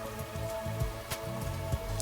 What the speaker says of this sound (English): it's raining like crazy. It's a crazy downpour.